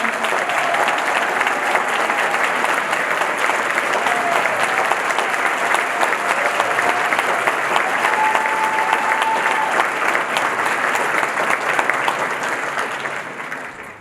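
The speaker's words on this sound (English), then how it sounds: "Another round of applause for our flute and clarinet soloists up front" Warm, sustained applause from a school band concert audience for flute and clarinet soloists, a thick even wash of clapping that holds steady throughout before tapering slightly at the end.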